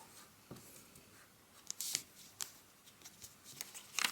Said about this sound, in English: We're gonna pull it up and fold it in half.